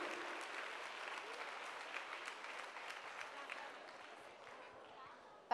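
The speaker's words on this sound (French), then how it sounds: "On applaudit tous les partenaires." Audience at an evening ladies' event clapping for the partners, a fairly distant, sustained patter of many hands that slowly fades, with voices mixed in and a sharp knock at the very end.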